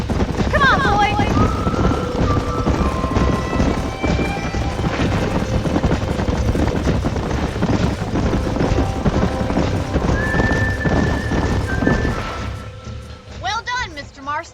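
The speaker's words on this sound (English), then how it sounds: "These are fine horses" Several horses gallop in Red Dead Redemption, dense pounding hooves running throughout with whinnies and neighs breaking in, a rumbling crash near the end, loud and close, while people talk over it.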